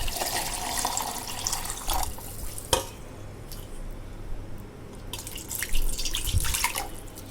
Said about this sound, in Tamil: சுடுதண்ணி இப்படி ஊற்றி ஊற வச்சுடுங்க